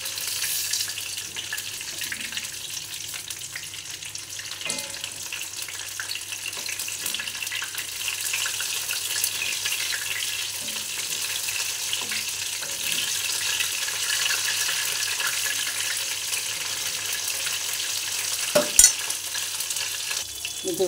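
A paneer chop fries in hot oil after being turned, giving a long steady sizzling hiss with a few faint scrapes and one sharp clack near the end, no talking.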